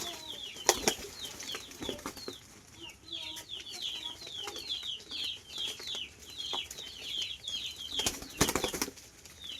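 Pigeons flap up onto a hand to peck at grain, with bursts of wing flutters, soft clucking coos and light pecking taps, close and fairly quiet.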